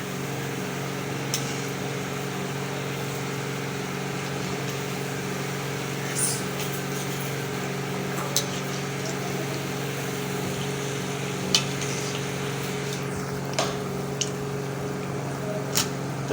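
Sweet tikiya patties frying in oil over low heat give a steady, soft sizzle with a few faint pops and crackles scattered through it. No one speaks.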